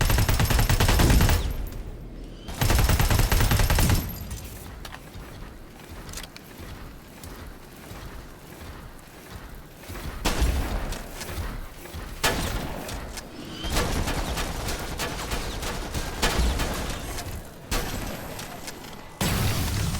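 Rapid automatic gunfire and heavy bursts fill a Terminator Resistance firefight, loud and nearly continuous with brief pauses, while someone talks over the shooting.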